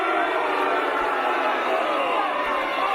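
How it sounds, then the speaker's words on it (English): A vocal wrestling crowd in Keighley jeering two Scottish wrestlers, a steady roar of massed voices filling the hall without pause. "a vocal Keighley audience show their disdain for the 2 Scots"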